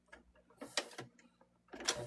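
A sewing machine chain stitching a placemat runs in short mechanical bursts with pauses between them, the stitching ticking and whirring close by and at a moderate level.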